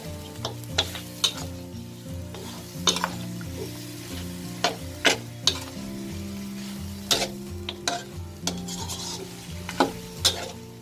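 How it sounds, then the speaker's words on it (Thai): Thai curry paste sizzles while being stir-fried in a pan for a coconut-milk pork rib curry, with a spoon scraping and knocking against the pan at irregular intervals over a steady frying hiss. "เราต้องผัดจนกว่าเครื่องแกงหอมก่อนนะ"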